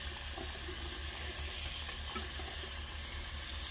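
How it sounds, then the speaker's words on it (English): Water poured onto a synthetic half wig to soak it, a steady continuous splashing and trickling hiss heard up close with no talking. "Okay, I'm gonna get it soaking wet with this water."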